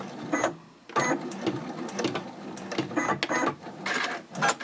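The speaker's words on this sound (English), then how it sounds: "sew up to that top line of stitching, pivot, and then secure everything with a few more stitches" A sewing machine runs in short bursts while stitching binding onto a fabric Omnia pouch, whirring and chattering close by, stopping briefly before a pivot and then resuming.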